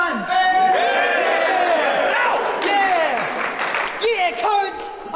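A crowd at a rap battle cheers, whoops and shouts loudly and continuously for several seconds, with excited voices calling out over the roar.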